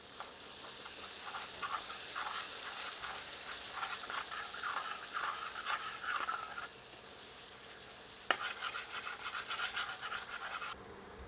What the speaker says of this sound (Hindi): अच्छी तरह स्टर करते हैं।